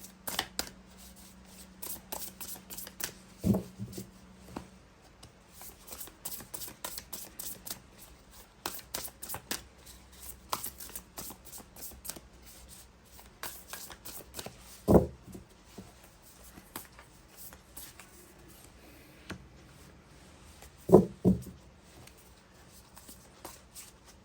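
Oracle cards being shuffled for a tarot reading, a soft continuous riffling and sliding of cards close by, broken by a few sharper taps as the deck is handled.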